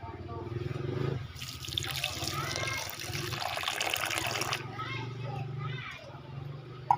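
Water runs from a tap and splashes into a pot while Thai curry is being made, a broad steady rush lasting several seconds, with voices talking over it and children faintly audible.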